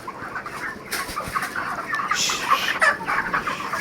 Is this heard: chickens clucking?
yes